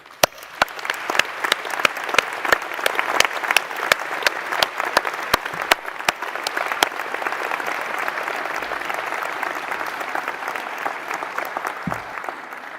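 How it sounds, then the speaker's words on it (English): Graduation ceremony audience at a university applauding, a sustained and fairly loud wash of many hands clapping for over twelve seconds, with some sharp individual claps up front. "So let's give them a round of applause."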